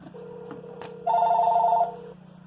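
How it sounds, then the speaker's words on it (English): A desk telephone at the Arkansas State Crime Lab office rings, a steady electronic tone that swells into one loud, sustained ring burst before easing back. No voices. "The phone ringing from my desk"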